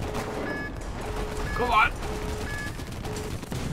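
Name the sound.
50 cal machine gun fire from a video game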